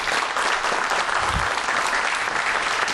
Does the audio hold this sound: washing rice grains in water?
no